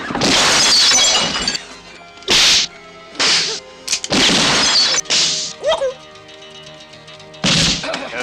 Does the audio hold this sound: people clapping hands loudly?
no